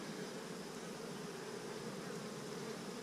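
Honeybees hum in a steady, dense drone throughout an open-hive inspection, a continuous close buzz with no talking over it.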